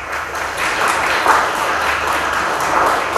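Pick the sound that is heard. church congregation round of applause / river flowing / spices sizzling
church congregation round of applause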